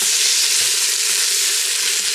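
Oxtail pieces browning in a hot pan give off a loud, steady, bright sizzle that holds unbroken with no talk over it.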